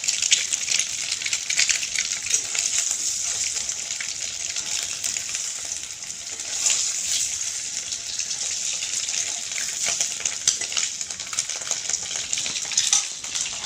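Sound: frying eggs in a pan

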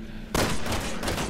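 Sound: gunshot in video game Resident Evil 6

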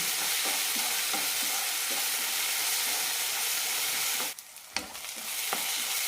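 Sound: tomatoes frying and being stirred for onion kurma curry

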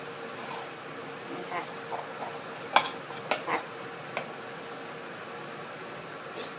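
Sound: stir-frying canned fish meat in curry paste in a pan

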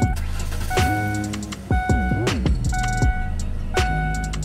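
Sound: Ford Explorer 4.0L truck engine cranking and running

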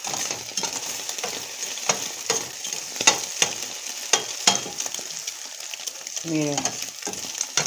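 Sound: stirring frying egg with chile in a pan

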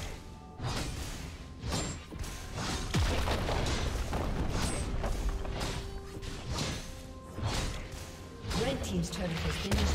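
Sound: turret being destroyed in video game League of Legends

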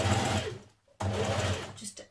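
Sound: sewing machine top stitching a shirt yoke

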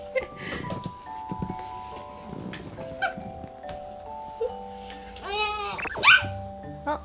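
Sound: child imitating a dog barking

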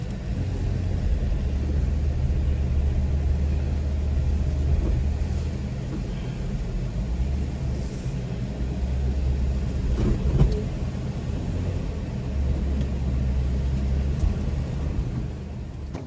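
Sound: off-road vehicle crawling over trail obstacle in four low

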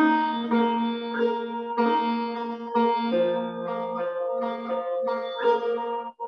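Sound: sarod being played

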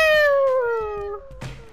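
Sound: cat meowing in the video game Gang Beasts

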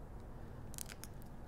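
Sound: fine tip scissors fussy cutting paper card edges

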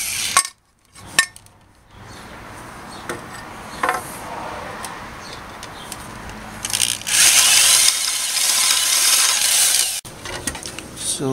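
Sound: power drill drilling holes for bolts

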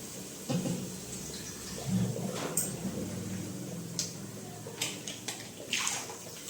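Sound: water being poured into cooking pot

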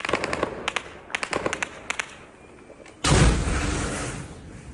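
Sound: drone crashing into shop wall, explosion

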